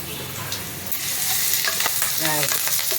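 Raw, freshly picked curry leaves hit hot oil in a pan for a loud, bursting sizzle that swells after the first second, with crackling pops and a few stirring scrapes, close and with no voices.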